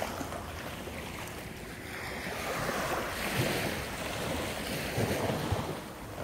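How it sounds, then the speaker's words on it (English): Waves wash onto a beach with a broad, rushing surf that swells and recedes, mixed with gusty wind buffeting the microphone, and no talking. "It's a beach there."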